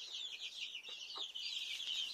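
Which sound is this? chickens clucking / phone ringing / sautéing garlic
chickens clucking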